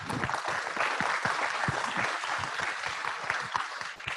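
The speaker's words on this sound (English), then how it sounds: "let's give him a round of applause" Audience applause at a public meeting after a talk by a state agriculture director, a dense steady patter of many hands clapping at fairly even loudness throughout, with no talk over it.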